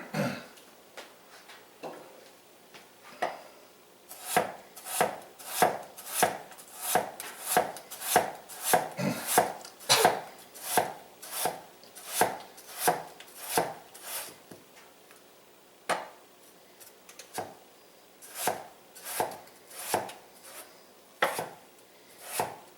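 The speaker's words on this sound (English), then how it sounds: "Now my knife's starting to drag through it." A knife chops repeatedly through a baked potato gratin, with a steady series of sharp, close cuts that come in quick bursts, pause briefly, then resume with more scattered strikes.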